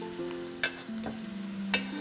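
Drained rice tipped into a generous amount of hot oil for saffron rice, a quiet continuous sizzle with occasional scraping stirs, under a steady background melody.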